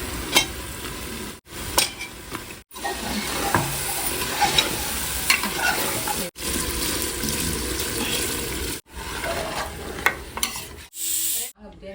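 Mutton bones go into a pan of frying tomato masala for nalli bone biryani, with steady sizzling and stirring scrapes broken by short pauses near the pan.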